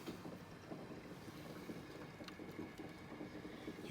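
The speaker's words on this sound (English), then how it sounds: "I thought I'd just fill her up with water now." Water runs steadily into a home furnace being refilled after a leak repair, a faint, continuous rushing and trickling with no talk.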